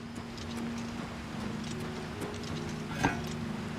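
A horse in Oblivion Remastered clip-clops in a steady, soft rhythm over a faint humming background, with one sharper hit near the end.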